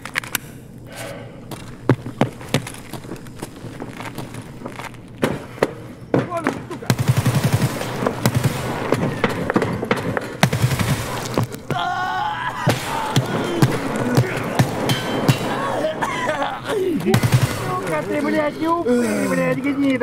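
Enemy gunfire in Escape from Tarkov, sharp bursts and single shots cracking repeatedly through the stretch, some rapid automatic volleys, loud and close with someone talking excitedly over them.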